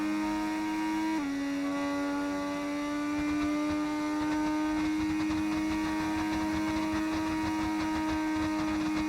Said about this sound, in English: That downshifting is so good, isn't it? The downshifting is definitely the best part of the engine mods.